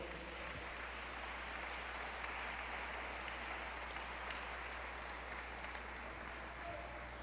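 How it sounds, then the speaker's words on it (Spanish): A church congregation applauds during a sermon, a faint, continuous wash of many hands clapping heard from a distance, with a steady low hum beneath it. "Brinda un fuerte aplauso a Dios."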